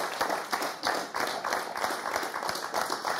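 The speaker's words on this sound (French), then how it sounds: "Allez, on vous applaudit parce que c'est vrai que c'est compliqué." Studio audience at a French televised word game show applauds steadily, a dense, even wash of many hands clapping that fills the whole moment without speech.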